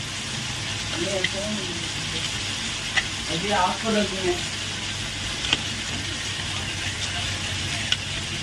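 Chicken frying in a pan as its liquid cooks off gives a steady, moderately loud sizzle with occasional stirring scrapes, while someone talks over it.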